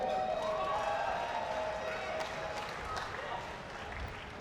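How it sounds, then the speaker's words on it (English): Arena crowd applauding and cheering as India's boxer Sumit Rangi is introduced from the blue corner at a heavyweight boxing event, a steady wash of clapping with a sustained whistle or cheer over it. "Another round of applause for India's own Sumit Rangi."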